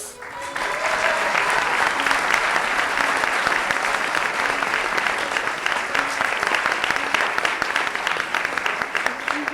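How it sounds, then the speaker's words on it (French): Audience applause welcoming a contestant at a pleading competition: loud, dense, sustained clapping from a large hall crowd, rising quickly and holding steady for several seconds. "merci d'accueillir sous vos applaudissements Arnaud."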